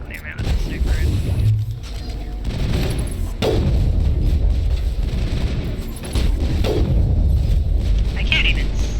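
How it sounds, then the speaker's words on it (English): Sniper rifle shots ring out in Mass Effect combat, several sharp booming cracks spaced irregularly amid battle noise and other gunfire. "Clear him out with the sniper rifle."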